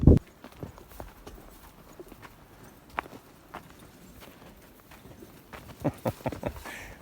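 Faint mule hoofbeats clop irregularly on the ground during a lion hunt, growing a little louder toward the end as the animals draw nearer.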